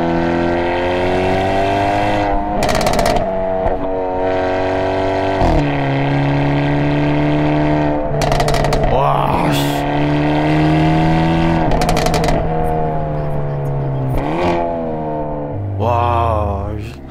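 A tuned exhaust on a Hyundai performance car revs loudly and close, pitch climbing and dropping repeatedly, with sharp crackling pops as it downshifts from third to second gear.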